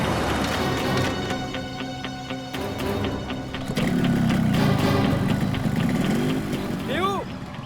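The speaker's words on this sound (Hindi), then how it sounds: "बाइक स्टार्ट हो गई, जल्दी आओ।" A motorbike engine running at a steady idle with a throaty rhythmic chug that swells briefly, heard close by while people talk over it.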